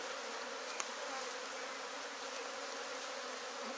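Honey bees swarm around an open beehive during a honey harvest, a dense continuous buzz from many insects at close range, steady in loudness with one brief sharp tick and no speech.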